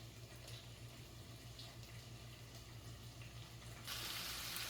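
Onions tipped into a hot frying pan for a beef stew, giving a steady faint sizzle that swells into louder hissing frying near the end.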